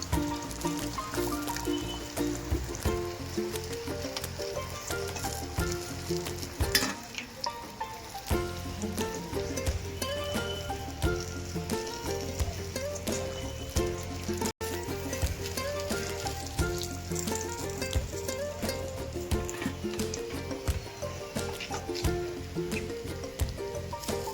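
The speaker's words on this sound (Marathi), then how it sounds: "बघा कसला मस्त आपला मासा फ्राय होत आहे." Village-style fish fries in a pan with a steady, close sizzle that runs throughout, partly covered by continuous background music.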